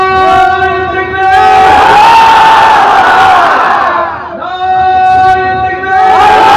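A large crowd at an annual Islamic religious gathering chants Allahu Akbar in unison, loud and near, with a leader's amplified voice calling out and many voices answering in long sustained swells.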